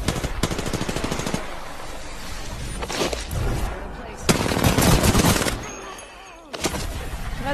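Rapid automatic rifle fire in a battle royale video game, sustained bursts that dominate the mix, loud and close, with brief lulls between volleys.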